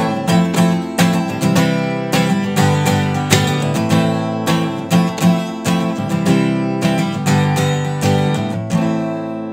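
An acoustic guitar strums a fast, steady down-up pattern over chords for a song, with bright, evenly spaced strokes ringing continuously and no voice.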